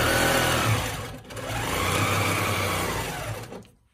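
Handi Quilter longarm quilting machine stitching along a ruler, a steady, loud, fast mechanical hum with a brief dip midway that winds down and stops at the end, with no talking.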